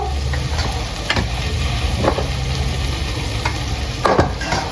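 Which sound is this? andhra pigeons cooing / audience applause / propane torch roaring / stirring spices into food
stirring spices into food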